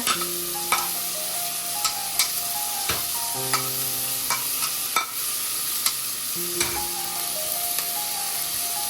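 Onions frying with curry leaves in a pan for a mango curry, a steady close sizzle broken by repeated scraping stirs and a few sharp clinks of the spoon, with no talking.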